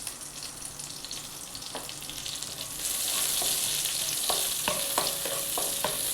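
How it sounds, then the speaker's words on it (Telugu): Onions, green chillies and curry leaves fry in hot oil in a pan, giving a steady crackling sizzle that grows denser partway through. Utensil clinks and scrapes strike now and then near the end. "ఇదే ప్యాన్లో ఆయిల్ వేసి ఆనియన్ వేసుకుందాం"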